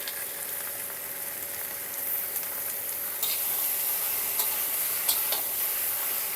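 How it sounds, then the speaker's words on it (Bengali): A paste of ground cumin, poppy seed and black mustard frying in a pan after ginger, a continuous close sizzle with a few sharper pops and spits, no talking. "আমি যে মশলাটা বেটে রেখেছিলাম, জিরে, পোস্ত আর কালো সর্ষে দিয়ে দিচ্ছি।"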